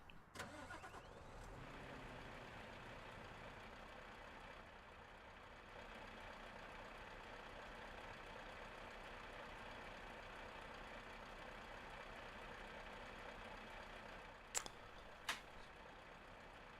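In Euro Truck Simulator 2, a truck engine cranks and catches, then settles into a steady, even idle that runs for the rest of the clip, with a couple of sharp clicks near the end.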